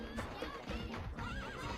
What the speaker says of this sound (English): From the horse-riding Kibapon to the shield-savvy Tatepon, build up your battalion to take on hordes of fierce foes.